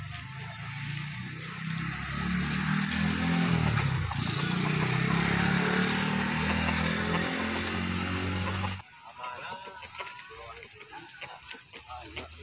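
A motorcycle engine runs loud and steady for about nine seconds, a dense rumble with some roughness, then cuts off abruptly; fainter background noise and people talking follow afterward.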